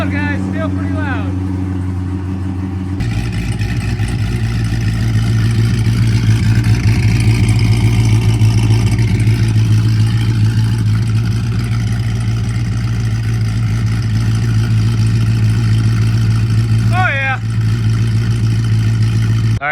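Outdoors, a Dodge Magnum with catalytic converters reinstalled idles loud and throaty, its engine revving in rough surges for a long stretch, with someone speaking over it at the start and near the end.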